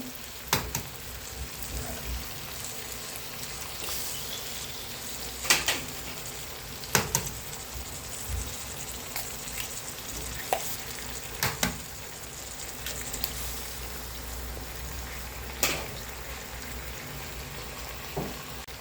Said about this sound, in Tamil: இப்போ இது கூட ஒரு 4 முட்டை உடச்சி ஊற்றிக்கலாம்